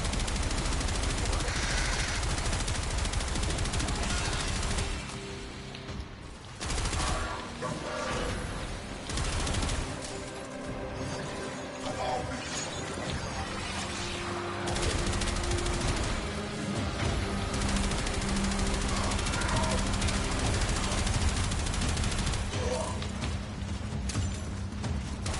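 In a sci-fi shooter game, enemies carrying guns and lasers fire long, dense volleys of rapid gunfire with heavy booms mixed in. The firing is loud and close, with only brief lulls.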